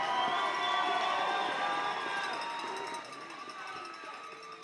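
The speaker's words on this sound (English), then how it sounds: "one more round of applause for these warriors in the title fight" A crowd at a Sparta 77 title fight between Jamal Shaw and Josh Cordova applauds and cheers the fighters in a dense, steady wash that fades slightly toward the end.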